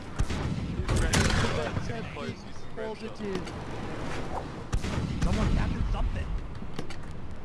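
Cannons firing grape shot aboard ships in the naval game Blackwake, several heavy booming blasts spread across the stretch with scattered crackling debris between them, mixed with voices and game noise.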